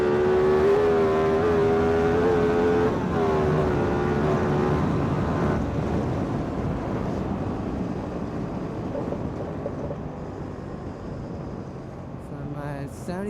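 A modified Hyosung GTR 250 motorcycle brakes hard from 75 with ABS. Its engine note winds down steadily under heavy wind rush, with a rider talking over the noise.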